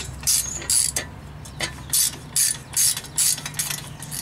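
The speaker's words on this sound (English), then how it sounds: "I'm ratcheting it in this way" Ratchet wrench tightening a bolt on a Jeep Wrangler YJ hub bearing during an axle U-joint job, a run of close, crisp clicking bursts in a steady back-and-forth rhythm with short pauses between strokes.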